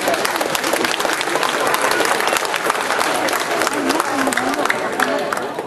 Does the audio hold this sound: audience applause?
yes